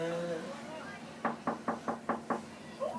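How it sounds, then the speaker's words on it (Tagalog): Six sharp, evenly spaced knocks on a door during a birthday gathering, close and distinct, following a few seconds of murmuring voices and room noise. "Lakasan niyo yung katok."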